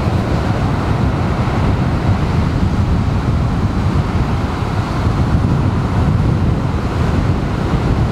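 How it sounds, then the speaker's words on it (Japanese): Strong wind blows at a surf spot by the sea, a loud continuous roar of gusts buffeting the microphone mixed with the wash of breaking waves, steady throughout with no voices. "なんか風がきつくなってきました。"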